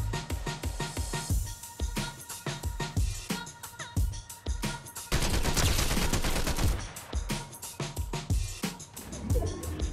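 Rapid gunfire bursts in Fortnite, loud and dense, with sharp repeated shots in fast strings and a sustained volley in the middle, mixed with game effects.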